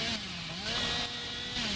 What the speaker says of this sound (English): managing to actually dodge Billy's chainsaw there